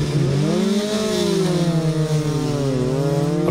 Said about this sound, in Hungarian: jár még a motor